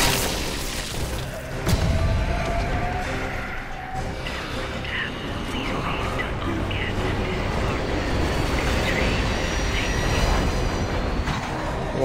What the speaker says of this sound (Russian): Тут поезд какой-то пришел.